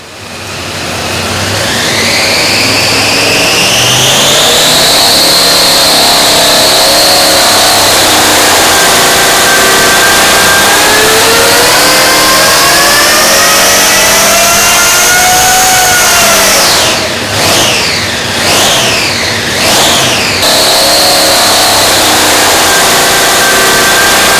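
A supercharged stroker Hemi with a big blower revs hard on a dyno, a loud sustained roar rising in pitch through the pull before a few quick throttle blips at the end.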